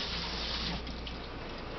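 Cold water runs steadily from a kitchen tap onto a juicer cloth being rinsed, a continuous close splashing hiss with no voices.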